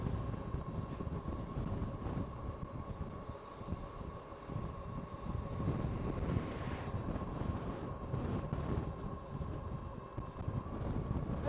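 Steady wind buffeting the microphone while riding a Philodo H8 AWD e-bike, a continuous low rumbling roar with gusty swells throughout and no voices.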